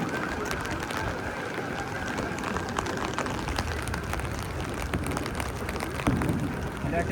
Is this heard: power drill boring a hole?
no